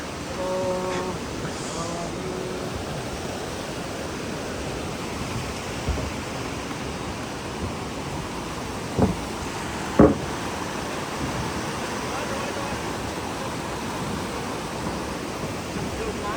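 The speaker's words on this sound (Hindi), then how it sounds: "ये बेसिकली कुंदल शाही वाटरफॉल है।" Kundal Shahi waterfall in Keran, Kashmir gives off a steady broadband rush of falling water, constant and fairly close for the whole stretch, with a couple of brief knocks partway through.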